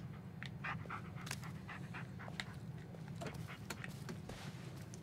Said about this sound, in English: You are the best dog ever.